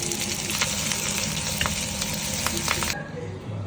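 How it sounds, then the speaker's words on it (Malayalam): Onion, dried red chillies and curry leaves sauté in a pan for a Kerala-style greens stir-fry, giving a loud, steady sizzle with faint stirring scrapes that drops off abruptly near the end. "ഇത് കരിയാപ്പില എല്ലാം കൂടെ ഇട്ട് ഒന്ന് വഴറ്റിയെടുക്കാം."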